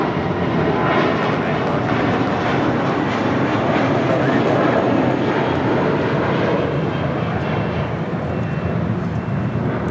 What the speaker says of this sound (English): 1185 departing to Los Cabos on an A320.